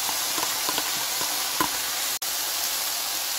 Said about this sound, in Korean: 간장 두 개를 넣고 볶으다가